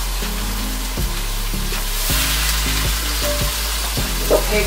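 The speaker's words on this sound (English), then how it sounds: "And in goes our little sizzling vegetables." Vegetables sizzle loudly in a hot non-stick pot, a steady crackling fry with a low hum underneath and occasional soft clicks as they are stirred.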